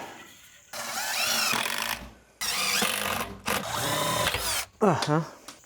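A power drill drives coarse-thread Phillips exterior drywall screws outdoors in three close bursts of whining motor that rise in pitch, then a short ratcheting spin at the end.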